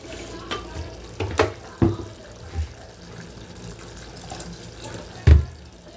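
Water runs and splashes into a cooking pot while making capsicum kurma, with a few louder clatters and knocks, over a steady low background hiss.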